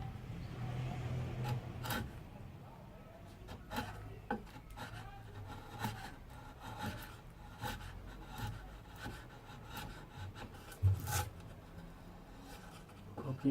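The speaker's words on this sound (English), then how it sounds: "I cut the material away. I sort of chamfer it, a shallow chamfer down to the line, and then I remove the material in the middle." Pallet wood is worked by hand with a saw and chisel, cutting and paring a shallow chamfer: soft repeated rasping and scraping with scattered sharp knocks and taps, close and fairly quiet.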